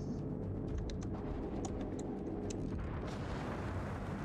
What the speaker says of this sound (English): I believe that hostile enemy ship from smoke firing at me.